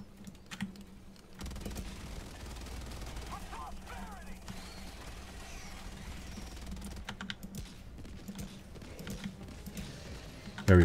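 Gunfire in the video game Helldivers 2: rapid bursts of shots and rocket fire cut through clattering keyboard typing, with a player's voice speaking over the game sounds at times.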